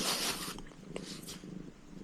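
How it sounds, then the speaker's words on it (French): A cat purring softly in the background, a faint low continuous rumble with a brief brighter rustle at the start. "avec les ronronnements du chat en arrière-fond"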